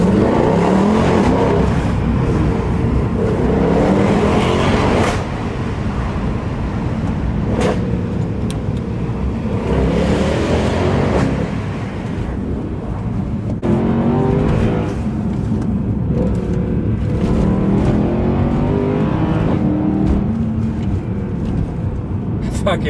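A Mercedes-Benz W204 C63 accelerating hard with traction control switched off, its loud engine roaring and revving continuously from inside the car, with brief shifts and people talking over it.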